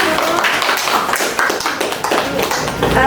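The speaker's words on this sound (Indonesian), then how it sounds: "Mohon kasih tepuk tangannya dong." After a stunting health talk for mothers and toddlers, a small audience gives a round of applause, a short burst of uneven, fairly close clapping with a few taps standing out.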